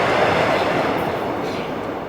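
Subway train rumbling past in a film scene, a dense, steady roar that fills the clip and eases slightly toward the end.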